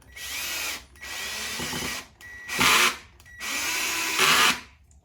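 A power drill drives screws into a workbench in four bursts, each a steady loud whir lasting a second or so with brief pauses between, the later runs straining a little harder as the screws seat.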